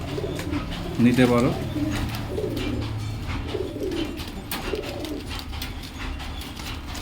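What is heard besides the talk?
pigeons cooing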